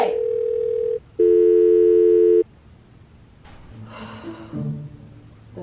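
A telephone rings out on an unanswered call: two loud, steady tone bursts, the second with a dip before it, then only low background noise and faint breathing-like sounds.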